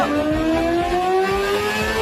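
A cartoon dragon chief's motorbike speeds off with a smooth, rising engine whine that climbs steadily in pitch over a low rumble, close and sustained for about two seconds with no voices.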